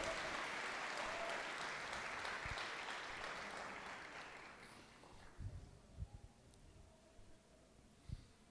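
Church congregation applauding during a Lord's Supper sermon, a dense wash of clapping that fades away over several seconds, leaving a few isolated claps and thumps in a quiet room.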